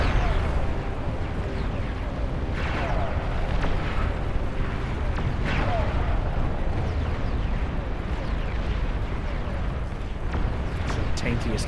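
Titans tearing through fusion reactors in a massive 80-player Beyond All Reason battle, with a dense, continuous roar of explosions and artillery-like blasts under steady commentary.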